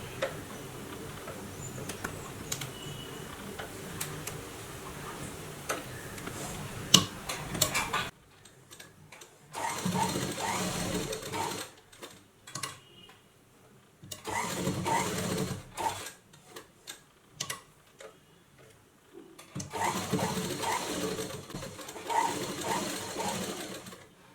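A domestic sewing machine stitching a blouse runs in short rapid bursts, a tight mechanical ticking chatter, stopping and starting with quiet pauses between runs, close and alone.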